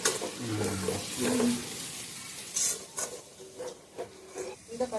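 Coriander powder sizzles as it is sautéed in a pan for mutton biryani, with a spoon scraping and stirring in short bursts over a steady fry.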